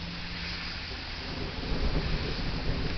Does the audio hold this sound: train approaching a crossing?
no